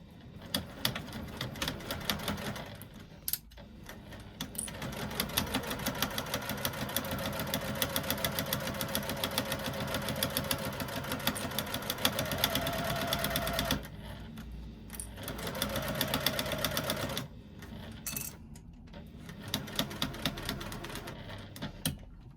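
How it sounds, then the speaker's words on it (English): A sewing machine stitches a zipper in long steady bursts with a rapid mechanical rattle, pausing briefly twice before starting up again. "I'm going to stitch that in place using a 3/8 of an inch seam allowance"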